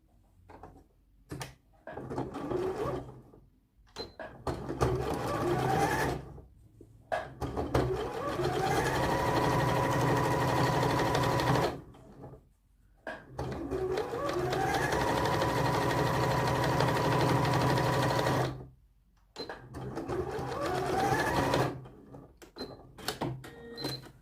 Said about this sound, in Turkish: Yeleğimizin klapasını şöyle düz yüzünü çevirerek yakayı dikiyoruz.